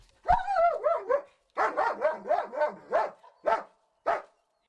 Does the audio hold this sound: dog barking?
yes